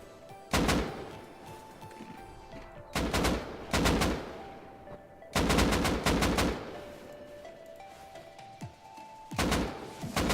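Silenced AK rifle fire during a raid in the video game Rust: several separate bursts of rapid automatic shots, loud and close, with quieter gaps of background hum between them and no speech.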